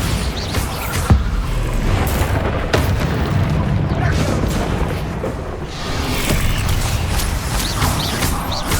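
Bombarda blasting spells exploding in Hogwarts Legacy during a mine battle, with loud dense booms and crashing bursts running continuously over a rumbling combat backdrop.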